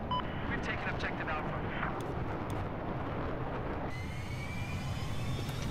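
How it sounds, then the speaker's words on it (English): A fighter jet roars overhead in a multiplayer shooter game, a dense, broad engine rumble that fills the whole clip and shifts into a higher whine partway through, with players talking faintly underneath. "That stupid jet!"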